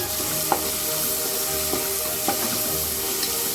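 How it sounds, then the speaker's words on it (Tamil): Tomatoes fried with ginger-garlic paste for mutton thokku keep up a constant close sizzle, broken by several brief spatula scrapes and taps on the pan. "தக்காளி போட்டுட்டு நல்லா வதக்கணும்"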